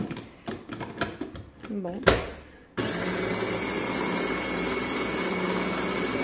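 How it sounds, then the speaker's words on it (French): An electric blender whirs steadily and loudly as it purees tapenade, starting abruptly after a few seconds of clattering, handling and brief talk. "On branche et on mixe."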